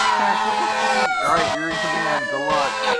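A fire engine siren wails close by with rising and falling sweeps and a steady engine drone beneath it, while voices are faintly mixed in.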